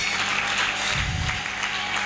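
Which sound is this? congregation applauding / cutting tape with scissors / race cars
congregation applauding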